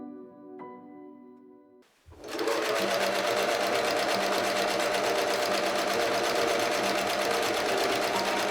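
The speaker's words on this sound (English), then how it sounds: "I stitched together all my pattern pieces for the shirt." A sewing machine starts up after a brief hum and runs in a steady, loud, continuous whir while stitching shirt pattern pieces together.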